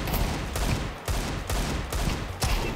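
A Desert Eagle pistol fires in Counter-Strike 2, with about six loud, sharp shots spaced roughly half a second apart in a steady rhythm.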